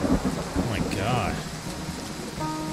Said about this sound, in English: That's some serious thunder.